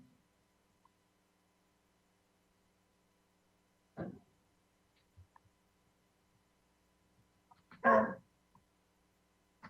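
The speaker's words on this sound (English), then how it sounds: "my dog is barking in the background" A dog barks off in the background of a quiet indoor room, two short faint bursts about four seconds apart, the second slightly louder, over a low steady hum.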